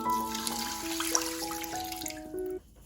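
Water runs into a sink as one cup of rice is rinsed, a steady close splash with clinks and tonal ringing from the pot, stopping abruptly near the end.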